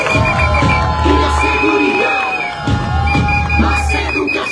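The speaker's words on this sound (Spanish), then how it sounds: "Javier Castillo, para quien pido un fuerte aplauso" Loud rally crowd cheering and whooping for Javier Castillo, a mayoral candidate in Villa Nueva, Guatemala, a dense steady roar of voices with a brief dip midway before swelling again.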